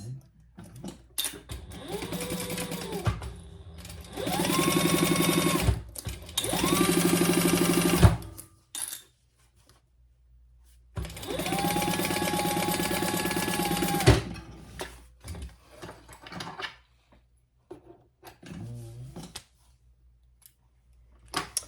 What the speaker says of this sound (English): And now we're gonna baste that in place.